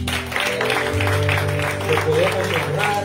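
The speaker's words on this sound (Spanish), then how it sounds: "Simplemente solo por eso le podemos dar un aplauso" A church congregation applauds with steady, rhythmic clapping while someone speaks Spanish over it. Sustained organ-like tones hold underneath throughout.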